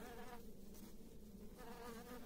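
A close, steady honeybee buzz hums continuously for a couple of seconds as the bee eats pollen, with no voices present.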